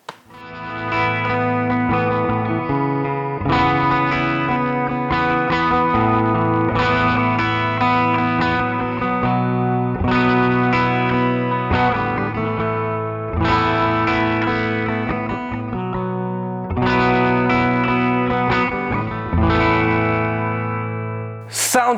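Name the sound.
electric guitar through amp distortion preset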